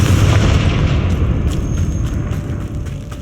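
A loud, booming blast from the Confringo fire spell in Hogwarts Legacy, a deep rumbling explosion that fills the whole moment and slowly decays, with faint crackling debris on top.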